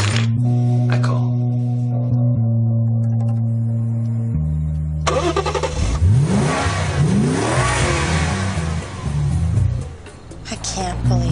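A car idles, then revs and accelerates away loudly, its engine pitch sweeping up and down through gear changes as it pulls off, with some talk over the engine.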